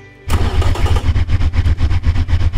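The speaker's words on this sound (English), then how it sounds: "The engine is making at idle 659 pound-feet of torque." A V16 engine in the Automation car game idles with a deep, loud, pulsing low rumble after an abrupt start, its throb repeating steadily and close up with no other sound.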